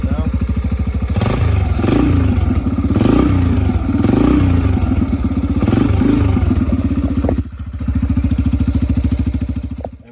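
A Yamaha TTR 125 dirt bike on its stock exhaust revs repeatedly up and down from a close, loud idle, with a brief dip near the end before the engine picks back up.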